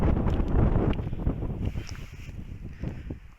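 Strong wind buffets the microphone with a rough, low rumble that gusts loudly at first and then slowly eases off.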